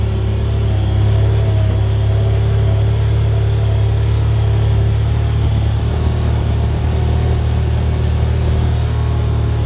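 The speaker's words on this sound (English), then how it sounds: "So I'm going to climb this hill here in second gear." A Kawasaki Pioneer 1000 UTV climbs a hill in second gear, its engine a steady, loud, low droning hum with constant rumble and no voices.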